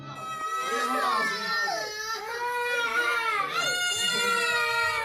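A baby cries loudly and continuously in wavering, pitch-sliding wails with short breaths between them, close and steady.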